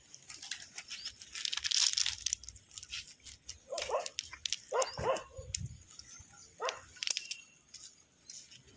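A dog barks in short irregular bursts near a house after being tossed biscuits, with several sharp barks spread across the clip over a light outdoor background and no talking.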